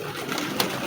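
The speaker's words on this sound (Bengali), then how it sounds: "এই যে দেখেন এখানে কবুতর আছে" Saudi Arabian pigeons cooing nearby, a soft, brief murmur set against a noisy background, with no talk.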